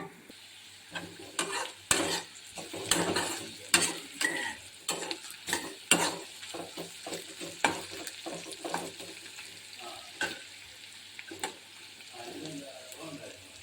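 Bitter gourd pieces fry in a pan with little oil and are stirred often, giving a close, steady sizzle broken by repeated scraping and clinking of the spoon against the pan.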